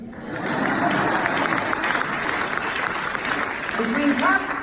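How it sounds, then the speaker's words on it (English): Crowd applause at a speech, a steady wash of clapping from a sizable audience with a voice briefly cutting through near the end. "You want to clap for that, either?"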